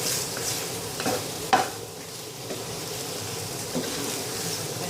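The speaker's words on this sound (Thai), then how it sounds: "ผัดจนกะทิส่วนนี้แห้งเข้าไปในเนื้อหมูนะคะ" Pork stir-fried in coconut milk with homemade panang curry paste sizzles with a steady, close hiss in the pan, broken by a few spatula scrapes and clinks, with no one talking.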